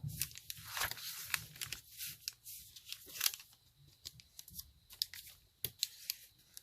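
A brittle page of an old hardcover book being folded, giving a run of close, dry crinkles and papery crackles with sharp little snaps, no voice over it.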